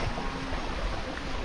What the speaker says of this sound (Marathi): आला आला पाऊस आला.